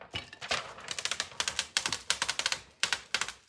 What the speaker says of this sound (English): I think a lot of what we're hearing is this plastic being stuck in my frame a little bit.